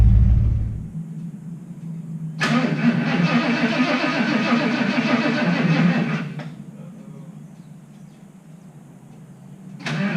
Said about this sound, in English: I'm gonna go fire up the old truck.